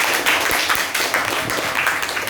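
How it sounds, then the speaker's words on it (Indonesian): Classroom applause during a chemistry lesson: a burst of many hands clapping together, loud and close, with irregular overlapping claps sustained for a couple of seconds. "beri tepuk tangan untuk"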